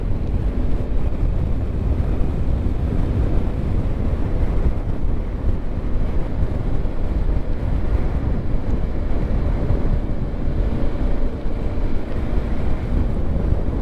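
Steady, heavy wind roar buffets the microphone throughout while riding a Yamaha Ténéré 700 (T7) motorbike with its rear suspension set back to standard height, loud and continuous with no voices.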